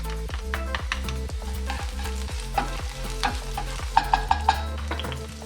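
Garlic frying in a pan with onion, a steady close sizzle under repeated rhythmic stirring scrapes, with a few sharp utensil taps near the end and no voices.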